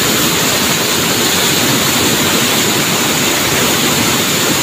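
Floodwater of the Bogowonto river rushes past riverside houses in a loud, continuous roar, a steady broadband wash with no pauses and no voices.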